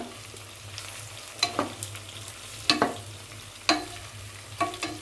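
Capsicum fries in oil in a pan, a soft sizzle running throughout, broken by several sharp scraping clatters of a spoon stirring the pieces, with no talk.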